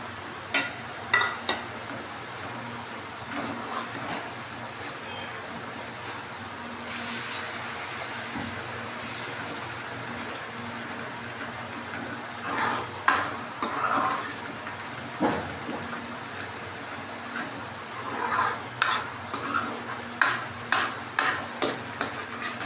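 Spice masala of chili, turmeric, black pepper and salt frying and stirred in a pan for shahi paneer, a low constant sizzle punctuated by repeated loud scraping and clanking spoon strokes, close up.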